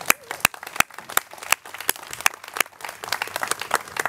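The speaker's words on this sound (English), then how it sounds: "Please give all of yourselves a round of applause." A graduation audience at a commencement ceremony claps, sparse, distinct handclaps from a few people, sharp and separate rather than a full roar, with irregular rhythm and a slight thickening near the end.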